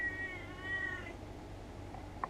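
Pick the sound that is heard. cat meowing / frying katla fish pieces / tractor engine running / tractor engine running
cat meowing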